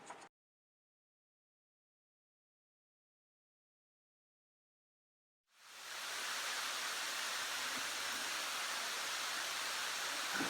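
Water cascades loudly from a large fountain in a museum's contemplation room, a dense, steady rushing wash that starts abruptly after a long silence and holds evenly to the end.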